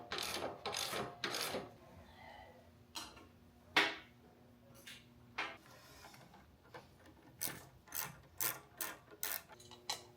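Close ratchet clicking while a pinch bolt is tightened on a Harley-Davidson Softail rear shock, in several quick bursts of sharp ticks separated by short pauses, with no talking.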